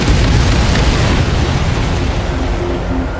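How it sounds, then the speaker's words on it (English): A cargo of Helios missiles detonates in a secondary explosion in the video game Ace Combat 7. The blast is a loud, sustained roaring boom with no speech, and its broad rumble slowly fades over a few seconds. "That was a secondary explosion where the cargo of Helios missiles detonated before they reached their destination"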